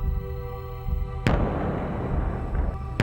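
Gunfire from a mass police volley on a city street in Daegu rings out as a sharp shot with a long rumbling echo, followed by a second, softer crack near the end.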